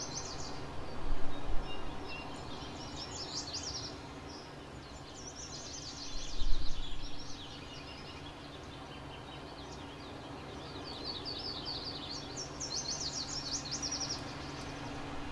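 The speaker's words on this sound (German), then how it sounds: "Die Vögel singen hier schön." Songbirds chirp and trill outdoors in Thuringia, bright call phrases recurring through the clip over a steady low rumble of distant machinery and wind.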